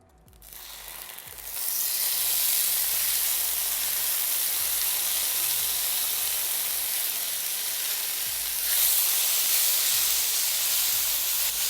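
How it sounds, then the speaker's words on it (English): Onion, garlic and prunes fry in olive oil in a large cast iron pan over medium heat, a loud steady sizzling hiss that starts after a brief quiet moment and carries on without letup. "We're gonna cook the onion and the garlic and the prunes until they begin to caramelize."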